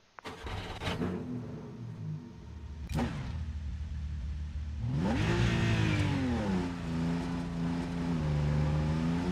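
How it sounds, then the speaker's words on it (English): Racing car engine in the Rennsport video game, likely a Porsche 963 or BMW hybrid V8 hypercar, with a few sharp clicks first, then the engine rising and revving loudly up and down, close and continuous. "I think the car sounds pretty close to the real life car"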